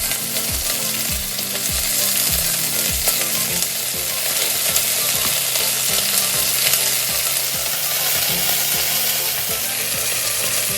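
Shrimp frying in a hot pan for a honey garlic dish, a steady loud sizzle running throughout with repeated scraping and stirring knocks of a utensil against the pan.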